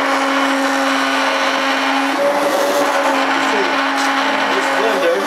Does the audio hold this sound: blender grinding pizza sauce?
yes